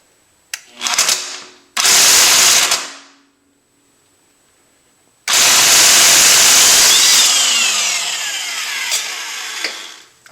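A wrench works at a seized bolt on a Honda Prelude during a timing belt job, with loud, sustained grinding and scraping bursts, a brief one followed by a longer strain after a pause, close and harsh.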